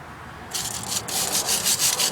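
A wire brush scrubs rust off a Jaguar X-Type front strut in rapid back-and-forth strokes, a harsh bristly rasping that starts after a brief quiet moment and pulses on close up.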